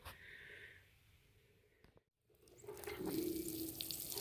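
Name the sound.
watering a newly planted pecan tree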